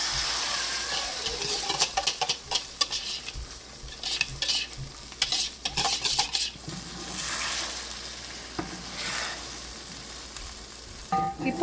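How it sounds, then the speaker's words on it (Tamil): Beaten eggs and vegetables stirred and fried in oil in a pan for chilli egg Maggi noodles, with a steady close sizzle and repeated scraping stir strokes, no talking. "இப்போ எக்கை வந்து நல்லா கலந்து விட்டுருங்க"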